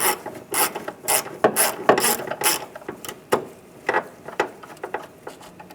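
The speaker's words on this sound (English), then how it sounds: "Loosen those two bolts." A ratchet with a 10mm socket loosens bolts on a 2005-2010 Chrysler 300 in front of the battery, giving rapid clicking bursts that come in uneven groups, close up with no talk.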